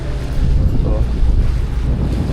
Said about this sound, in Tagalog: Malaki yung alon, malakas yung hangin.